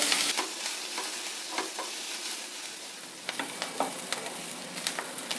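Onions fry in a pan with a constant hiss, stirred throughout with irregular scraping strokes and light taps of the spoon close to the mic.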